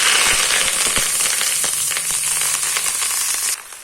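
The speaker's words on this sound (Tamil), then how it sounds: "இதில் கருவேப்பிலையை போட்டு நல்லா மொறுன்னு வறுத்து எடுத்துக்கிடணும்" Curry leaves sizzle and crackle in hot oil, a loud, dense frying hiss with sharp pops that cuts off abruptly near the end.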